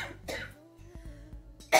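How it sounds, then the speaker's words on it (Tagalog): A woman coughs a few times at close range indoors, short harsh bursts with a louder cough at the end, no speech. "Oh my gosh, inuubo ako."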